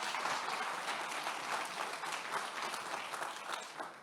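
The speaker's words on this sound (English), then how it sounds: "Can we give another round of applause to Janine and Alyssa Farrah-Griffin?" Audience applause fills the hall at an awards event announcing prize semifinalists, a dense steady clapping that holds loud throughout with no break and no voices on top.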